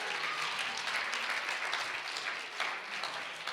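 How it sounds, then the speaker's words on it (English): A church congregation claps for a couple, a fairly quiet, diffuse patter of many hands that continues steadily throughout. "give Brother and Sister Johnson a hand clap"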